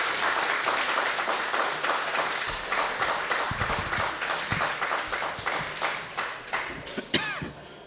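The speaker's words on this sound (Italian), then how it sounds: "Facciamo un altro applauso già che ci siamo" Audience applause at a Lucca Games 2015 talk, a sustained patter of many hands clapping at moderate distance, thinning out toward the end with a couple of louder individual claps and a cough.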